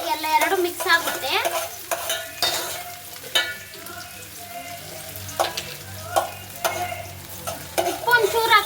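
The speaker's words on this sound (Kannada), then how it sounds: "ನೂಡಲ್ಸು ನೋಡಿ, ಮೊಟ್ಟೆನೂ ಹಂಗೆ ಹಾಕೊಂಡ್ಬಿಡ್ರಿ, ಎಲ್ಲ ಎರಡು ಮಿಕ್ಸ್ ಆಗುತ್ತೆ" Egg noodles with egg being stirred in a frying pan, a steady sizzle and fry with repeated scraping, clattering stirring strokes throughout, close and fairly loud with no talk.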